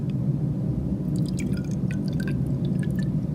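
Water is poured from a 150 ml beaker into a 50 ml graduated cylinder, giving soft trickling and dripping splashes over a low, steady background hum.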